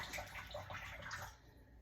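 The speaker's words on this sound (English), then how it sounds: "It is filtering water as we speak, as you can hear it" A home water filter filtering water, a steady soft rushing trickle of flowing water heard close and alone, fading slightly toward the end.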